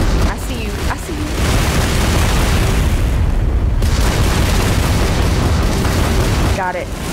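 Missile explosions during space combat in the Starfield video game, a continuous loud roar of blasts and booms that fills the whole stretch with little letup.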